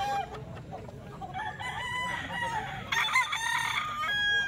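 A young stag rooster crows nearby, its strained, rising call stretching across the clip, with other fowl clucking and faint background noise.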